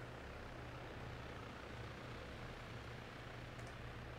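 Helicopter in the military video game Arma 3, a steady low rotor and engine drone with broadband wash, continuous and fairly quiet throughout with no talk over it.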